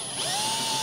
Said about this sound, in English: I'm going to drill a hole in the top